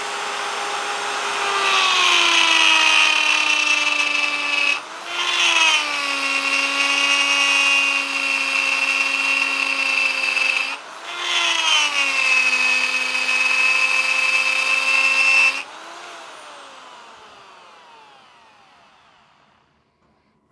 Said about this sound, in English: it's removing stainless steel quite effectively